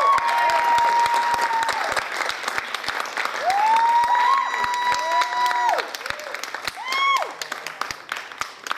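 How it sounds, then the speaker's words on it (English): Loud audience applause and cheering fill an event hall in Atlanta as a speaker is welcomed, dense claps mixed with whoops and a few shouted calls from the crowd. "Please give a warm round of applause, Atlanta, for Mr."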